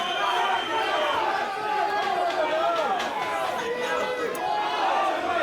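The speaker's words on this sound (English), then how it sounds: "This crowd is taking the roof of this place." Crowd noise at an MMA fight event in Maidenhead, a loud continuous roar of cheering and shouting voices that fills the whole stretch without pause.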